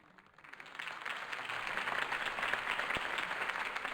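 Crowd applause following a campaign speech, swelling from quiet scattered claps into sustained clapping from a large audience for about four seconds.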